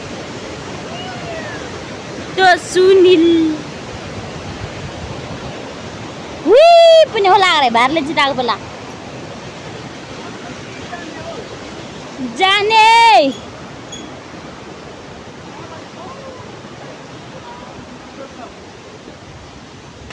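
A village waterfall pours in a constant, close rush of broadband noise, with a few short bursts of a person talking over it.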